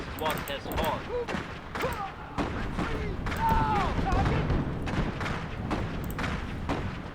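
Gunfire from the real-time strategy game Iron Harvest, scattered shots and booms in a skirmish with an anti-tank gun, heard under continuous excited commentary.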